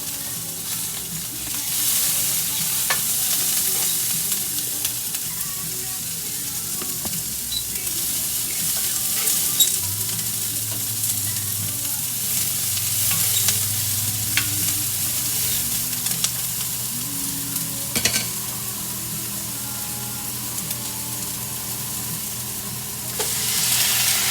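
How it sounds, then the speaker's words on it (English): Sweet potatoes and red onions fry in a pan for smothered sweet potatoes, a steady close sizzle with occasional stirring scrapes throughout, no talking. "I put the potatoes in there because I want the potatoes to have like a fried taste to them"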